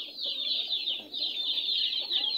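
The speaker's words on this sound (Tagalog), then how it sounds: "Yan yung ating mga manok" Chickens near a hut clucking in a quick, continuous chatter of short nasal calls, moderately close and alone without talk.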